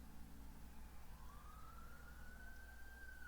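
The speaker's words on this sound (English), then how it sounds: "with sirens blaring in the distance" Distant sirens during the Omori video game credits, a faint rising wail drifting over a soft, steady background hum.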